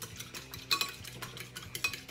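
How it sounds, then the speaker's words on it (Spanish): A single egg being whisked in a bowl, quick rhythmic clicking taps of utensil on dish, about seven strokes close up, without talk. "Pues vamos a batir el huevo"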